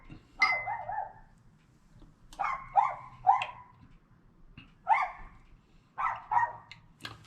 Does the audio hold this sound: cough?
no